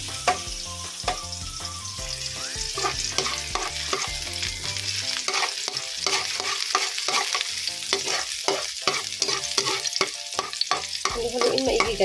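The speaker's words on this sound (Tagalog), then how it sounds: "Haluin." Chicken afritada with onions being stirred in a hot pan, a steady loud sizzle with continuous scraping and clattering strokes of the spoon throughout, no voices.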